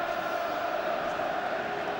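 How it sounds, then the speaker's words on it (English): Steady, dense roar of a large football crowd at the FA Cup Final between Arsenal and Liverpool, a continuous wash of massed voices holding at an even level throughout, with no single voice standing out. "The crowd here now totally on the edge of their seats."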